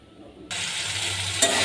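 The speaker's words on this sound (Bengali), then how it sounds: "ভাজা ভাজা হয়ে গেছে মশলাটা পুরো" Spice paste fries in a pan, a bright steady sizzle bursting in abruptly after a quiet start, with a brief scrape of stirring near the end, close and loud.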